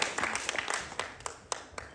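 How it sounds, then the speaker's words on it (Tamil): An audience at a Tamil New Year speech event claps, dense scattered applause with individual sharp claps standing out, moderately faint and fading slightly over two seconds. "திரளாக கைத்தட்டி எங்களை எல்லாம் உற்சாகப்படுத்தி கொண்டிருக்கும் என் உயிரினில் கலந்த தமிழ் உறவுகளே"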